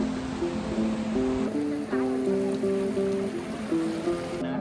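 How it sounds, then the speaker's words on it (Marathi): The Sindh River flows at Sonamarg in Kashmir as a steady, broad rush of water, close and constant, with a stepped tonal melody playing over it. "ही आहे सिंध नदी ना."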